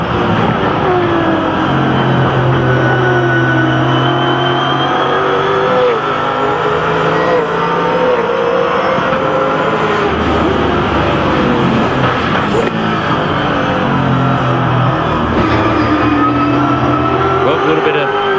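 A V8 Supercar engine roars at full throttle onboard around the Bathurst circuit during a 2010 race, a loud continuous howl rising and dropping through upshifts and downshifts, with commentary talking over it throughout.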